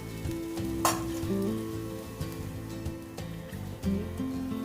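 Pitha fries gently in a pan over a low flame, a steady close sizzle with occasional light stirring and scraping sounds.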